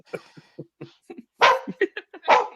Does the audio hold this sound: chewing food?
no